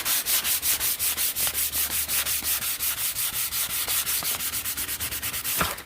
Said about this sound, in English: I don't want to sand the rust off, but I'm going to show you